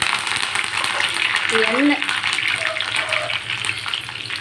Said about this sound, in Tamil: கருவேப்பிலையும் பொரிஞ்சாச்சு